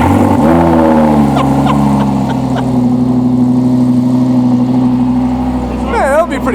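A Lamborghini supercar engine starts with a loud bark and settles into a steady, deep idle, then a sharp rising rev near the end, with voices speaking over it.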